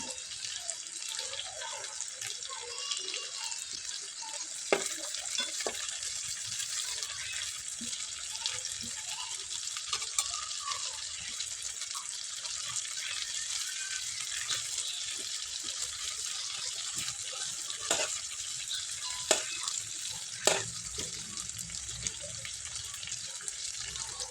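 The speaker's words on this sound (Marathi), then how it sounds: "चांगली वांगी भाजून घ्यायची आहेत आपल्याला दोन्ही कंद आलटून पलटून" Eggplants roast over an open flame and are turned from side to side, giving a steady close hiss throughout with a few brief knocks and taps.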